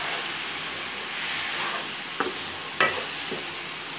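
Butter chicken masala sautéing in a pan gives a steady, close sizzle and hiss, with a couple of brief scraping stirs cutting through partway, and no voices.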